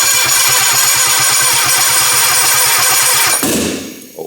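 Engine of a Mitsubishi Lancer being converted from front-wheel to rear-wheel drive, running loud and close with a rough, rapid pulsing rumble, then shutting off abruptly into a brief clatter near the end.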